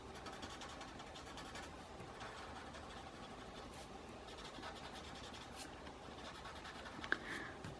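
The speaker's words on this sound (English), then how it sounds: "I use a pencil that it's a HB or #2 pencil" An HB #2 pencil drawing on paper, a faint steady scratching and scribbling of graphite strokes with a few small taps near the end, quiet and close, no voices.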